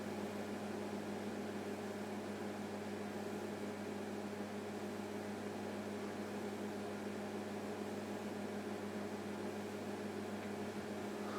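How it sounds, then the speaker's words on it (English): A cooling fan runs steadily behind a ham radio transmitter being tuned on 40 metres, a constant whirring hum with broadband hiss that stays even and unbroken throughout. "I've got the fan running on the background all the time just to make sure."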